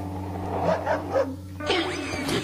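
A dog gives a few short barks and yips over a steady low hum, followed by a brighter scraping rattle near the end.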